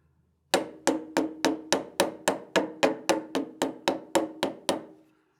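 A turned wooden box lid being tapped on with the butt of a tool handle: about fourteen sharp, even knocks in a steady rhythm, close and clear, with no talk.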